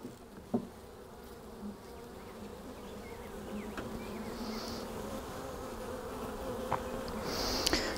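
Honey bees hum continuously during a spring hive inspection, a dense low buzzing swarm close by that holds steady throughout with a few faint clicks and knocks of handling, no voices.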